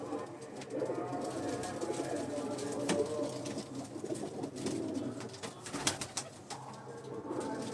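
Pigeons kept as a hobby on a rooftop loft coo in a low, steady murmur that runs through the whole stretch, with faint rustling and a few sharper taps mixed in.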